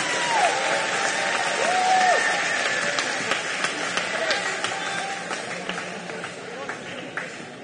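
Audience applause for a high school guitar and ukulele class at a May Day program in Hilo, a dense crowd clapping steadily throughout with a few whistles and cheers rising over it.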